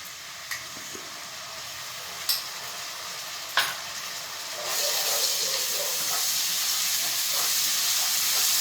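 Onions with a spoonful of ginger-garlic paste stir-frying in a pan for veg pulao, a steady close sizzle that swells louder midway, with a few sharp spoon scrapes and taps against the pan.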